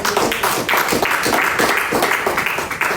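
A church congregation applauds during a sermon, with dense, continuous clapping from many hands that fills the room loudly for a few seconds.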